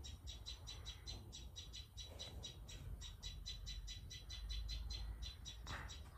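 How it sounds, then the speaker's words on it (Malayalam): A gecko chirps loudly in a rapid, steady series of sharp clicking notes, repeating through most of the stretch over a low background rumble, with no one talking. "പല്ലിരുന്ന് വല്ലാണ്ട് ചിലയ്ക്കുന്നു"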